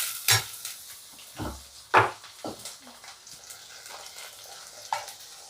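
Mushroom gravy being stirred in a pan, giving a few scraping, clattering stirs with a faint sizzle underneath, spaced irregularly and fairly close.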